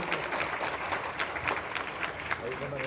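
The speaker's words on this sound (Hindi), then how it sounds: "तो एक जोरदार ताली मुनव्वर अली साहब के लिए और बहाउद्दीन साहब के लिए" An audience at Darul Huda Islamic University applauds Munawwar Ali and Bahauddin Nadvi, a dense, steady crowd clapping that carries on for the whole stretch, with a voice speaking over it.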